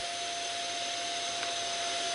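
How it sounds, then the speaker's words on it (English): Steady broadband roar of a CNC vacuum table's suction unit running at full power, constant and loud from start to end with a faint tonal whine riding on top and no talk. "Let's turn the vacuum on and see just how easy it is to pull both these materials up off the table"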